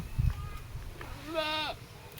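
Goats being readied for a livestock market give one clear, wavering bleat after some low rustling and handling noise nearby.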